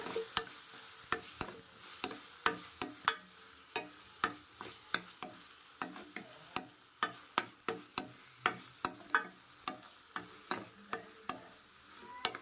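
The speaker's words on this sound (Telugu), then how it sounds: "ఇప్పుడు దీన్ని ఒకసారి కలిపేసుకుందాము వేసుకుందాం బాగా" Ponganti greens (Alternanthera sessilis) curry with tomato, chilli powder and salt stirred in a pan: a steady run of close spoon-on-pan scrapes and knocks, roughly two or three a second, over a soft frying sizzle.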